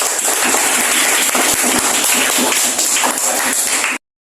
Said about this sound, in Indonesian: tepuk tangan dulu, tepuk tangan